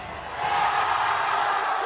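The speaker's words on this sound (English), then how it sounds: "The crowd is loving it too." An esports crowd at a Valorant match in the VCT CN Stage 2 group stage cheers in a broad, steady roar that swells slightly and then holds at full volume throughout.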